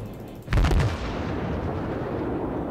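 The battleship Warspite fires its main guns in the naval battle game World of Warships: one heavy, booming salvo with a deep low rumble that trails off into a long fading roar.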